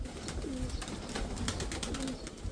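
Domestic pigeons give a steady, fairly close chorus of low rolling coos, several birds overlapping in a continuous throaty murmur with a few rising and falling calls. No voices are heard.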